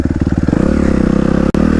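A 2013 Suzuki RMZ250 dirt bike engine with an FMF exhaust runs close by, its rapid pulsing putter smoothing into a steady rev, broken by one sharp click near the end.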